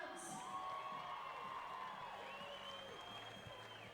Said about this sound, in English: Big round of applause for all our contestants here today